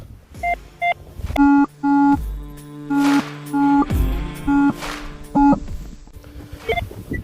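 A Gauss MD metal detector sweeping ground on a hillside gives a series of electronic signal tones, short steady beeps at several pitches repeating in an irregular rhythm, loud and close with no talk.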